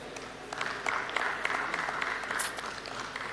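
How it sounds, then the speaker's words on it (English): Audience applause from a seated crowd at a church teaching session on building multiple income streams, steady clapping rising and holding for a few seconds at moderate distance with a few sharper individual claps. "Clap for yourselves"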